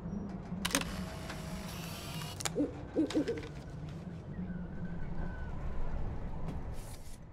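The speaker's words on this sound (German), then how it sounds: "Ah, eine Eule war das also." An owl hoots in the video game Life is Strange, a few soft low calls in a quiet scene, with brief clicks and rustling around them.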